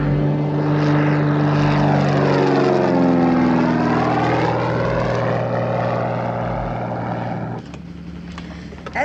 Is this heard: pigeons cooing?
no